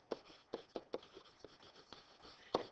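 A pencil writes on paper, filling a triangle entry into a hand-drawn chart of polygons. It makes a series of short, faint scratchy strokes spaced irregularly and heard close up with no other sound.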